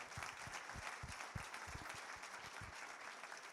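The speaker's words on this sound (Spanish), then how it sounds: "Un aplauso para Emanuel, por favor." Steady applause from an audience after an economics talk, continuous crisp clapping with a few heavier near claps standing out, heard at fairly low level.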